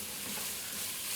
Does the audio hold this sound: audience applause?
no